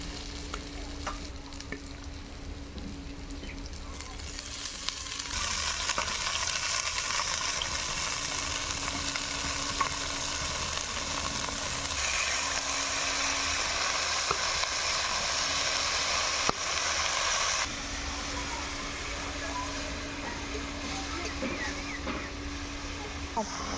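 Fenugreek greens fry with eggplant in a pan, giving a steady, close sizzle broken by occasional stirring scrapes, with a constant low hum underneath.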